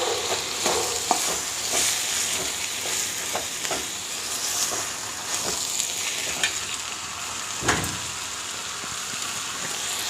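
Ginger garlic paste sizzles and fries in a pan with tomato, a steady crackling hiss broken by scraping stirs and a few sharp clicks, close and without talk.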